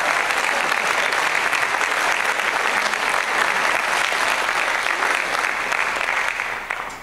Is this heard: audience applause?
yes